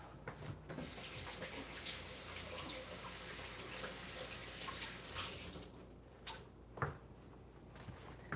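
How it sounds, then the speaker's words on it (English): Water running from a tap while hands are washed: a steady, moderately quiet hiss of flowing water with rubbing, broken by a few splashes and brief dropouts toward the end, with no talking. "I'm just gonna wash my hands and then I'll come back to this"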